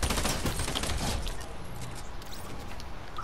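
Rapid video-game gunfire rattles loud and close in a dense burst for about a second, then drops to a softer, distant crackle of shots over background noise.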